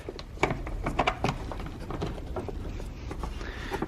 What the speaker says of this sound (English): you just screw them out until they stop spinning out, because the screws do stay attached